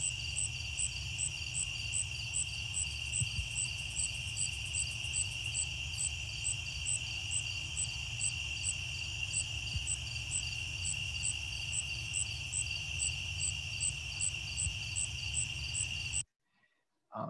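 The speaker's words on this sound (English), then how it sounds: "The striped ground cricket would be the winner here among the crickets." A striped ground cricket chirps in a lawn in a fast, steady string of short regular pulses over a continuous high buzz, faint but even, with no talk, then stops abruptly.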